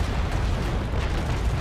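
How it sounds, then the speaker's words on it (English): Carronades on a sailing warship fire a broadside in the Naval Action naval game, a loud, dense rumbling roar of blasts with no pause, heard alone without talk. "Right the carronades. Aim. Fire!"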